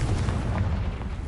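A Confringo fire curse explodes in a Harry Potter video game as a dense, booming low rumble that stays loud and steady for over a second.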